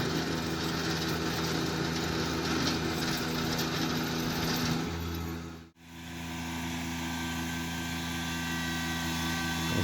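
A Kubota BX2660 compact tractor runs steadily while scooping sod off the dirt, its engine a continuous droning hum. The sound breaks off briefly mid-clip, then resumes at a lower, steadier pitch, close and loud.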